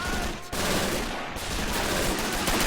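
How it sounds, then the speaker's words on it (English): A machine gunner fires in Men of War: Assault Squad 2 during a Kursk armored advance, a dense, continuous rattle of gunfire and battle noise that is steady and loud throughout, with no talking. "Alright, here comes the machine gunner."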